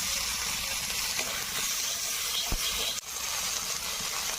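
Chopped tomatoes for a fish curry hit hot oil in a pan with onion and spices, giving a steady, bright sizzling hiss with a few small pops, close and continuous.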